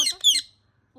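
A parrot gives two sharp, shrill squawks close by, quick and harsh, followed by a short pause and a faint trailing call.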